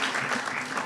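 Brief burst of steady, dense applause from a crowd at a press conference where California's governor signs housing legislation, filling the room without voices.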